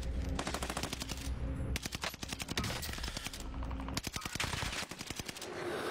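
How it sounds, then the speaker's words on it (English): Rapid automatic gunfire in a first-person shooter video game, with dense bursts of shots rattling on and off throughout, loud and close, punctuated by brief pauses. "Try to keep on shooting the people on the roof."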